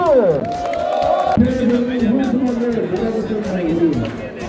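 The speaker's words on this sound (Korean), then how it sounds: "여러분들 환영의 함성 박수를 보내주시기 바랍니다" A crowd roars a welcoming shout at the opening of a national seniors' sports competition, with loud layered voices rising and falling together in a dense, steady swell for several seconds.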